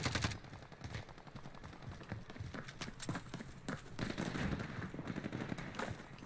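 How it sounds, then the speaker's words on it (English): Gunfire in the video game Warzone: dense, rapid bursts of automatic fire and single shots rattle almost continuously, loud and close, with occasional heavier cracks. "They're shooting at me."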